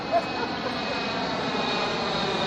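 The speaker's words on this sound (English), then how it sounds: "oh my God, another plane is coming." A fixed-wing airplane passes overhead outdoors, its engine a broad, steady roar that fills the whole stretch without rising or fading much. No one speaks.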